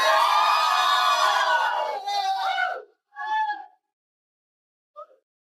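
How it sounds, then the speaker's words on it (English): A live audience claps and cheers loudly, a dense crowd roar that cuts off abruptly, followed by a short burst of whooping and a faint final snippet. "a live audience clapping like it's a concert"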